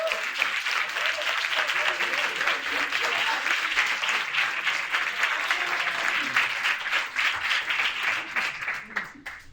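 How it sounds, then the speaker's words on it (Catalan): Sustained, dense audience applause at an anime video forum event at Manga Barcelona 2022, steady and loud throughout with no pause. "Un aplaudiment per Don Patch, sisplau."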